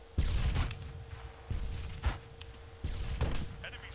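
Gunfire in the video game Arma 3 comes as several heavy booming shots spaced a second or so apart, each with a rolling tail, over a steady background hum.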